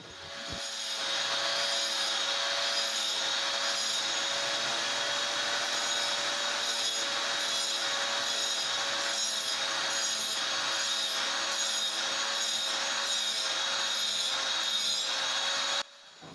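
A flour mill's grinding stone is dressed by hand with a continuous, rhythmic scraping and rubbing that stays close and steady for about sixteen seconds before stopping abruptly.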